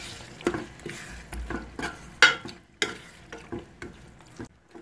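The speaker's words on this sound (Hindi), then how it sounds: "ये देखें मैंने अपना मीट जो है इसमें ऐड कर दिया है" Meat stirred into frying masala in a pot, a spoon scraping and clattering at uneven intervals over a soft steady sizzle, close and fairly quiet.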